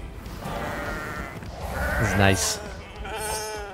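Sheep bleating in the video game For Honor, a short wavering bleat rising out of game sounds and battle noise, with someone talking over it.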